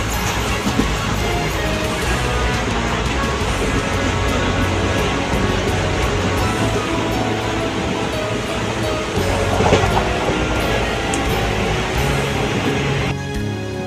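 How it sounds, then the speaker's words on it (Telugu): A passenger train runs on rails between Samarlakota and Secunderabad, giving a loud, continuous rumble and rattle of wheels and carriages that holds steady throughout, with no voices. "ట్రైన్ అయితే చేరుకుంది"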